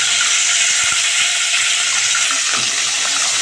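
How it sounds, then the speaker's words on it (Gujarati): Asafoetida dropped into hot oil in a village kitchen while cooking a Bhangara fish curry, giving a loud, steady hiss and crackle of frying with a few soft clinks of a utensil, close and continuous without talk. "હવે આ તેલ ગરમ થઈ ગયું એટલે એમાં આપણે પહેલાં હિંગ નાખી દઈએ"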